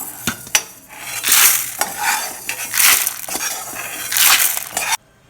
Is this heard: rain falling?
no